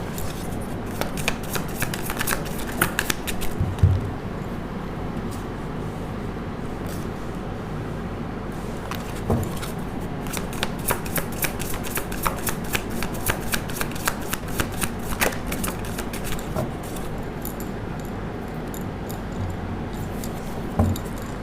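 A deck of tarot cards shuffled close by, with continuous papery riffling and flicking broken by a few louder taps, and no talking.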